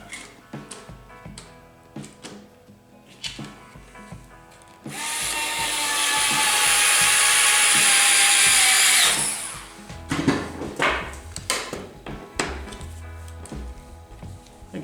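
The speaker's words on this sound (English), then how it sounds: "Then we just finish it off with a screwdriver that we can control" Screwdriver driving a screw into a pinball machine's wooden side rail, with a steady burst of mechanical whirring in the middle and sparse ticks and clicks of hand tightening before and after, close and fairly quiet.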